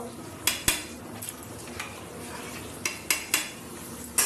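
A spoon stirs moong and masoor dal khichuri in a cooking pot, a few sharp metallic clanks and scrapes spaced irregularly over a faint background hum, close and clear.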